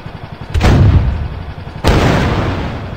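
A tank cannon fires twice in the Henry Stickmin game, each shot a loud, close boom with a long rumbling decay, the second blast coming just over a second after the first.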